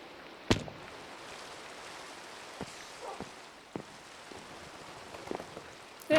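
Faint, steady rain patter in Minecraft on Wii U, with a few sharper drops and clicks scattered throughout.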